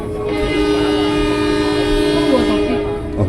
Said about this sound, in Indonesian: Nah kereta kita berangkat.